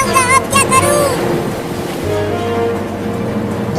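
Rushing flood water surges and splashes loudly and continuously throughout, with a churning, wave-like wash and a voice briefly heard over it near the start.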